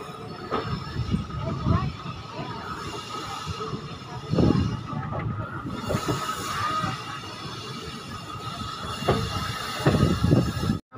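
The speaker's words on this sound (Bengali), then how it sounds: "ট্রেন এসে পৌঁছালো তার গন্তব্যের শেষ স্টেশনে" Passenger train 05701 from Malda Town pulling into Katihar Junction, its terminus, with a steady rumble of rolling cars, occasional wheel squeal and clatter, and voices of people talking faintly over the noise throughout.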